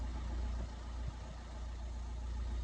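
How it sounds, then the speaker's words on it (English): A 2014 Renault Clio dCi diesel idles steadily, a low, even engine hum with a faint mechanical patter, heard close and alone without talk. "The engine runs nice."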